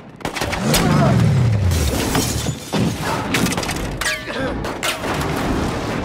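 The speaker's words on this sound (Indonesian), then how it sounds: "Ketika akan kabur, mereka juga dihujani tembakan dari para warga" Gunshots ring out amid loud, chaotic action noise, with sharp bangs and crashes over a rumbling background and some voices.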